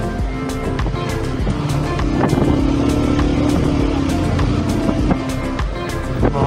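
Vehicles overtake one another on the winding Bopdev Ghat road near Pune, a loud close rush of engine and road noise with wind buffeting, continuous throughout.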